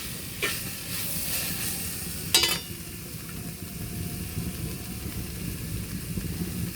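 A green chili hits a hot frying pan, giving a steady close sizzling hiss with a brief louder spitting burst partway through before settling back to a constant fry.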